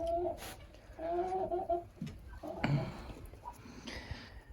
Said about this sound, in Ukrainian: А в нас є такі качечки.